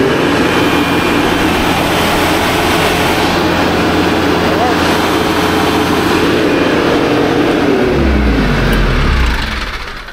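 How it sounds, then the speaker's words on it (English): A car engine revved up after a drive belt change, a loud steady high-rpm drone held for several seconds close by, then dropping off as the throttle eases near the end. "All right, let's throttle it up."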